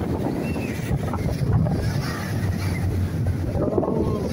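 A large ship passes close to a windy European seashore while strong gusts buffet the microphone, leaving a low, steady engine rumble mixed with wind roar and lapping water.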